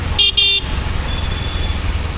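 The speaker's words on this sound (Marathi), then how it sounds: "खतरनाक ट्रैफिक दिख रहा है यहाँ से" In heavy road traffic during a rainy monsoon ride, a loud car horn blares twice in close succession, followed by a steady roar of engines and road noise.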